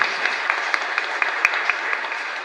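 A chapel congregation of Nuestra Señora de la Asunción gives a strong round of applause. The clapping is loud, continuous and close, with sharper individual claps standing out from the crowd.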